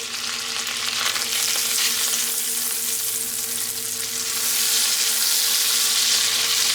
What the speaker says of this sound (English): we are going to melt that butter right in here. All right, now we're going to add the bacon.